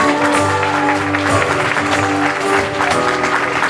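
An improv theatre audience at an improv match applauds two Montreal experimental-theatre actors, a dense steady patter of clapping over a sustained tonal hum or music bed that holds throughout.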